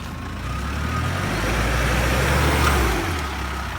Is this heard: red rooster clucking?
no